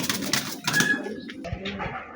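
A pigeon with watery eyes, held in the hands for eye-ointment treatment, gives a low, soft coo partway through, close by amid faint handling rustle.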